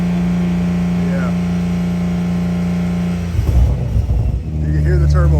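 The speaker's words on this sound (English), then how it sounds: "You can hear the turbo. You can hear T51R." A Toyota Supra A90 with a T51R turbo kit fitted idles with a steady, droning engine hum and a high whine. Midway the engine is blipped with a rougher surge, then it settles back to a loud, even drone, close up.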